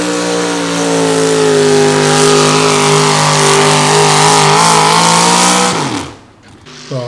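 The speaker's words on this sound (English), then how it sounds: "here we're seeing in this tractor pull" A heavy pulling-tractor engine roars loudly and steadily at a tractor pull in Warren, Minnesota, straining at high revs for several seconds before cutting off abruptly.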